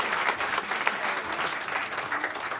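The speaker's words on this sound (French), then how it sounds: "on peut applaudir Sylvain, s'il vous plaît" Audience at an open-mic stage show applauding steadily, a dense wash of many hands clapping at close range with no break.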